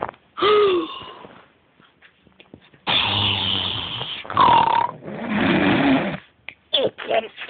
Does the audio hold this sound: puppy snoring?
yes